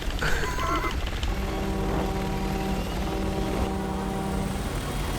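A helicopter in the video game Resident Evil 6 whirs with a steady rotor drone and engine hum, fairly loud and sustained throughout.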